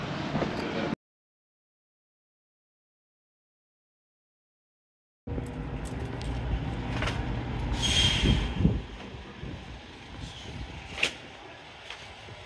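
A San Francisco streetcar rumbles along in a steady mechanical drone with a few sharp clanks and squeals, interrupted early by a few seconds of silence.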